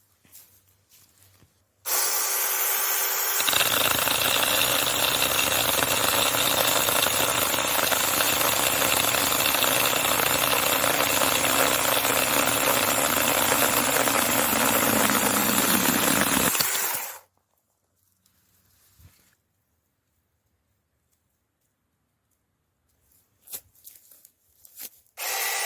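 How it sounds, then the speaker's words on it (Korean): Cordless chainsaw starting up, revving to speed and biting into fresh, moist garden wood, a loud continuous buzzing cut lasting about fifteen seconds before cutting off abruptly, followed by quiet and a few faint knocks. "가동시키고 몇 초 정도 기다려서 RPM을 높인 다음에 나무에 가져다 댑니다"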